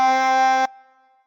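Hole 1 blown on a chromatic harmonica gives a lower, full reedy tone already sounding at the start, held evenly for over half a second, then ending sharply into a faint decaying ring.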